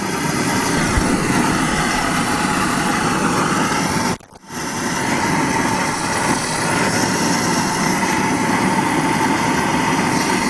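A propane-fired furnace melting scrap aluminum roars continuously, loud, close and broadband, with a brief dip in the middle as the flame falters before the steady roar resumes.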